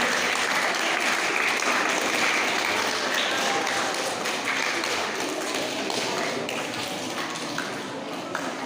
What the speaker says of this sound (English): Welcome with a huge round of applause.